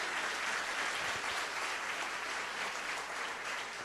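A church congregation applauds steadily throughout, a dense, even wash of clapping with no break and no talk over it.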